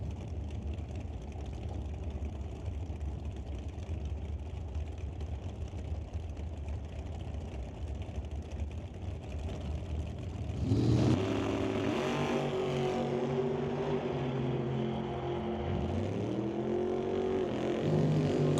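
Drag racing cars at a strip idle and rumble in the distance, then launch with a louder, rising engine roar that sweeps up and down through gear changes, with no talking.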